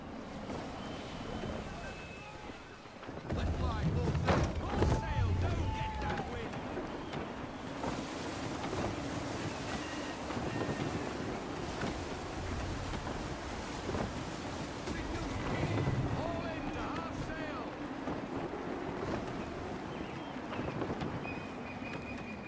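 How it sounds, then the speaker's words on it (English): Gusty wind buffets a sailing ship at sea in Assassin's Creed III, a broad rushing roar mixed with waves and creaking hull, swelling and easing in gusts, with a voice speaking over it at times. "Gusty winds can be difficult to manage."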